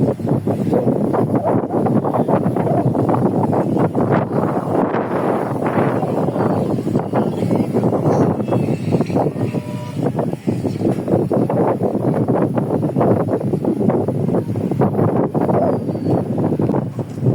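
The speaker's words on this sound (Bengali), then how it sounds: "সুন্দর বাতাস, ঠান্ডা বাতাস" A cool wind blows by a riverside in Bangladesh, buffeting the microphone in a continuous low rushing roar that rises and falls a little but never stops.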